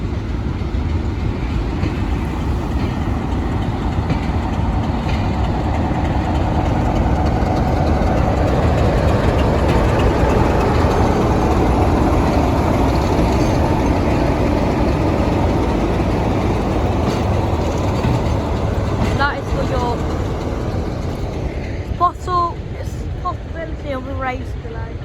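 A train hauled by locomotive 47802 passes Sleaford east level crossing with a continuous heavy rumble of engine and rolling wagons, close and steady throughout, with voices talking nearby.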